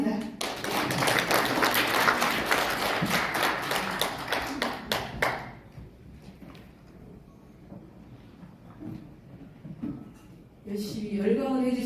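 Loud, sustained applause from a symposium audience in a meeting room at the National Assembly Members' Office Building, dense clapping for about five seconds, then fading into quieter scattered sounds and murmur before a fresh burst of clapping at the end.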